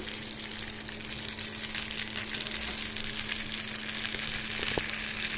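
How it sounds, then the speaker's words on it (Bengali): Mustard oil heating in a pan, a steady close sizzle and hiss running without a break, with one faint clink near the end and no talk. "এবারে তেলটা আগে ভালো মতন গরম হয়ে নিই"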